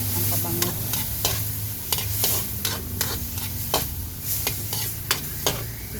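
Aromatics sautéing in a small amount of oil for shrimp sinigang, a steady low sizzle close by with repeated stirring scrapes at a loose irregular rhythm.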